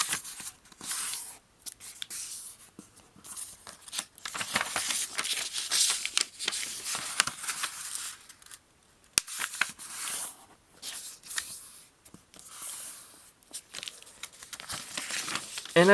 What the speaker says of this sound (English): we'll fold in half on both diagonals